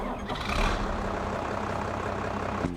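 Heavy truck engine in Farming Simulator turning over and settling into a loud, steady low rumble with a brief higher burst near the start, continuous and close throughout, no talking.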